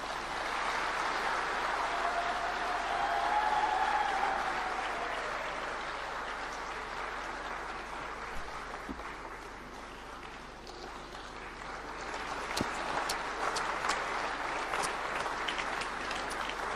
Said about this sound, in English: Can we continue to clap our hands as that gesture